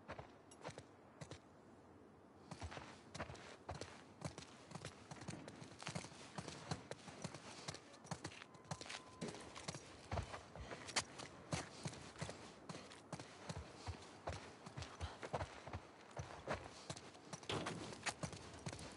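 Horses clip-clop along in the video game The Last of Us Part II, a steady run of close hoof beats on the ground with faint background ambience and a soft voice now and then.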